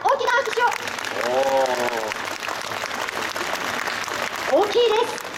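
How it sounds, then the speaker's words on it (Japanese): An audience applauds loudly to vote for Yukimura's side in a staged battle judging, with clapping running throughout as voices call out over it at the start and end. "まずは雪村様の戦が良かったと思われる方、大きな拍手を。"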